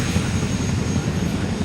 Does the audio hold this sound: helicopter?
yes